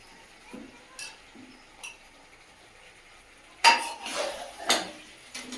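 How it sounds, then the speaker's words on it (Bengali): Fried potatoes tumble into a pot of simmering water and meat, producing a sudden close clatter and clink of metal, followed by a few lighter knocks after some quiet, isolated taps. "এর মধ্যে ভেজে রাখা আলুগুলো এবার দিয়ে দেবো।"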